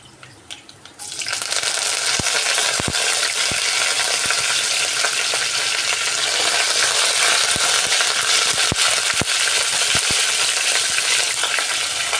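Mustard seeds splutter and sizzle in hot oil, a loud steady frying hiss with scattered sharp pops and crackles throughout, starting just after a brief quieter moment at the beginning.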